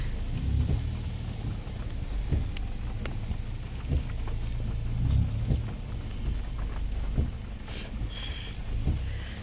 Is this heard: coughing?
no